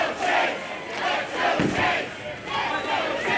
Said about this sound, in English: This crowd just rallying. There is no doubt who the favorite is here in Youngstown.